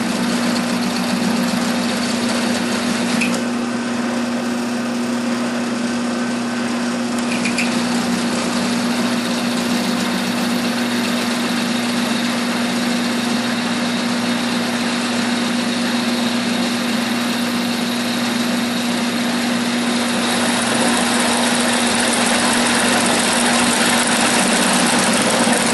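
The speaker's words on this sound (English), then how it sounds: "Don't want those threads trying to kick my drill bit off to the side." A drill boring into threaded steel pipe for a propane forge burner, a continuous steady whine with a strong fixed hum, running unbroken and fairly loud throughout with no talking.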